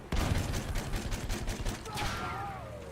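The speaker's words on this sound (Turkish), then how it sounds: "Aha sağdan sıkıyor." Battlefield 1 gunfire rattles in a rapid burst of close shots, fading into a whistling tail as the firing stops.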